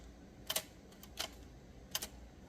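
Small typewriter escapement clicks as keys are released and the gear slips back, three sharp, quiet mechanical ticks spaced unevenly over a couple of seconds in a near-silent room.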